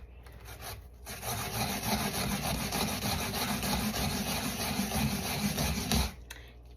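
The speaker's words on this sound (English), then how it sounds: "Here's another way to grate your coconut or your cassava or your pumpkin." Kabocha pumpkin scraped by hand across a grater, a close, loud, rhythmic rasping of quick back-and-forth strokes that runs steadily for about five seconds before stopping abruptly.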